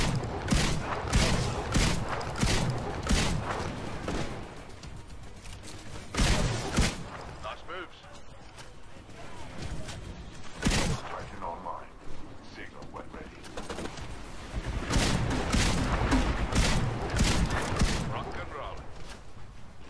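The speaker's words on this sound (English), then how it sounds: "Now we're looking at the EVA 8 shotgun. Really powerful weapon." EVA-8 shotgun in the Titanfall video game firing in a series of sharp, loud booming blasts at irregular intervals, some in quick pairs, with mechanical handling sounds between shots.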